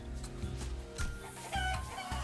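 Chickens clucking inside the Limbus Company video game, a close, continuous cluster of fowl calls sounding alone over a low game background for a couple of seconds.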